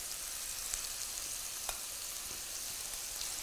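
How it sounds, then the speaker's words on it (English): Cod frying in a pan: steady, close sizzle with a bright crackling hiss, punctuated by a few sharper pops, continuing without talk. "I got 20 more seconds to let this sizzle"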